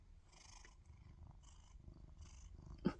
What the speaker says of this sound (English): I don't know if you can hear him, but he is purring.